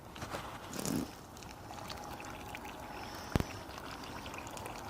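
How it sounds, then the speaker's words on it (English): Water poured from a can onto strawberry plants in olive green pots, a soft trickle that swells briefly near the start then settles into a low steady splashing, with one sharp knock partway through. "I'm watering them thoroughly just to get sure they have enough water."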